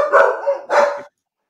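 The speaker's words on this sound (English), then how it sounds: "I think your dogs don't agree with you, Marcello." Two dogs barking, loud and close, in a few sharp overlapping barks that stop abruptly, followed by silence.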